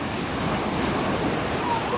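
Sea waves wash onto Chennai's Marina beach in a continuous roaring surf, steady and fairly loud with some wind noise, no distinct breaks between waves.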